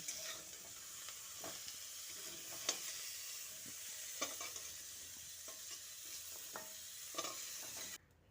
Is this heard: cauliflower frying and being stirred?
yes